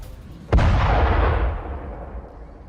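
A single sharp, loud blast from an Israeli bombardment strike in a residential area of Lebanon hits suddenly, then rumbles and rolls away over a couple of seconds, with no voices.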